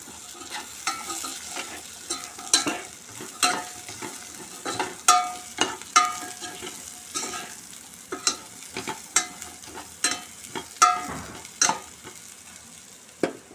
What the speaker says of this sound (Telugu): దీనిలో ఉప్పు, పసుపు, కారం, ధనియాల పొడి వేయాలి. వేసి ఫ్రై చేయాలి.